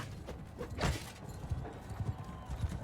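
Horse hooves clip-clop in a Mount & Blade II: Bannerlord battle, a quiet, uneven run of soft thuds from a horse moving over the ground with faint background noise.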